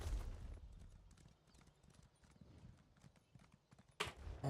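Horse hooves clip-clopping in the Elder Scrolls Online video game, a steady run of quick hoof beats at mid distance, with a brief louder burst near the end and no talk over it.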